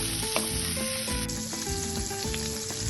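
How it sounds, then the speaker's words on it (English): Parsley sizzles and crackles as it is tossed in a hot pan, with steady frying and stirring scrapes throughout, close and fairly loud, over faint background music. "then we add half a cup of parsley and toss it"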